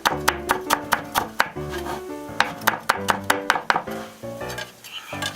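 Garlic cloves are pressed and crushed with sharp, rhythmic knocks against a board, about a dozen close, loud strikes in quick bursts with short pauses between.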